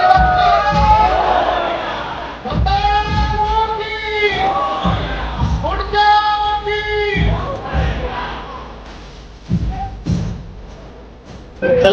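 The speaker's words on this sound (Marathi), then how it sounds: "सर्व पुणेकरांनी या मल्लखांब कॅडमचं टाळ्या स्वागत करायचे" A large outdoor crowd at a Pune Ganapati immersion procession roars, chants and cheers for a mallakhamb team, loud and close, with shouted voices rising in waves and dull thumps underneath.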